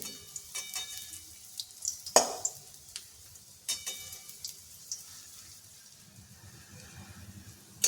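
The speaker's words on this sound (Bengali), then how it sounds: "বড়াগুলো লাল করে ভাজা হয়ে গেছে" Quiet sizzling of oil as coconut fritters fry, with intermittent clicks and scrapes of a utensil, fairly faint and close, no voices.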